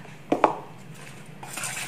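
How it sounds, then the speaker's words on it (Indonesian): Spoon stirring shrimp with about two tablespoons of cornstarch in a pan: two sharp clinks against the metal, then a soft scraping stir and faint sizzle, no talk. "kita aduk semua sampai rata seperti ini"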